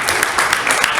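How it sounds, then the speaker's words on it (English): A conference audience applauds for Dr. Maurice Kelson, a brief burst of dense, steady clapping from many hands in a hall. "let's give him a round of applause"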